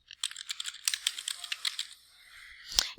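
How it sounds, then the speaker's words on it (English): Fingers type on a computer keyboard, a quick, close run of light plastic clicks in an uneven rhythm, ending with a sharper keystroke. "you'll actually type your name"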